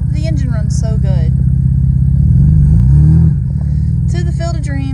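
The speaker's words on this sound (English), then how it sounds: "The engine runs so good." A 1989 Toyota Camry wagon engine idles steadily and loudly with a low rumble, swelling briefly midway, while people talk over it near the start and end.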